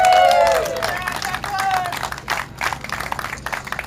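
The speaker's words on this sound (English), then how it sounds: "Give these guys a big round of applause." Crowd applause and scattered clapping for race drivers at a trophy ceremony at Sebring International Raceway, with loud whoops and voices over the clapping at the start, then steady mixed applause and crowd noise throughout.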